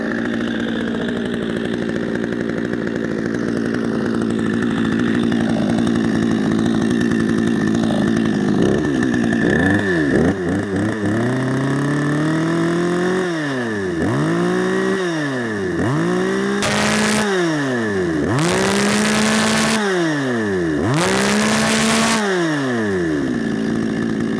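A Zomax 5200 petrol chainsaw, under repair after failing to start, idles loudly up close and is blipped through repeated short revs that rise and fall, several climbing to a harsh high-pitched scream as the engine warms up.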